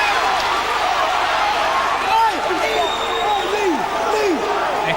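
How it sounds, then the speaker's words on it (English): A loud boxing crowd at an amateur final: a dense, steady wash of cheering and shouting fills the hall, with a few brief sliding squeaks and thumps from the ring and a commentator talking over the noise. "I think the crowd is so loud here, they're actually struggling to hear the referee's commands."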